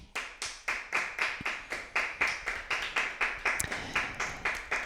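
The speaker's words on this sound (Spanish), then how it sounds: "Le damos un aplauso al Señor" A church congregation claps together in praise, a steady rhythmic beat of about four claps per second, each strike crisp and evenly spaced, with no voices over it.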